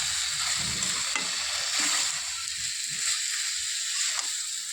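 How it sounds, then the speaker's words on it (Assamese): Yogurt masala with coriander being stirred and fried in a pan, a constant bright hiss of sizzling under soft, irregular scraping and sloshing from the spoon, moderately loud and close. "ভালদৰে ভাজি থাকিব লাগিব এনেকৈ"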